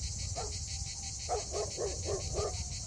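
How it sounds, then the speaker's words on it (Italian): Several dogs bark hysterically near a deserted, disused area, one bark then a rapid run of five sharp barks at moderate distance, with crickets chirping steadily underneath. "mi raggiunse il latrato isterico di alcuni cani"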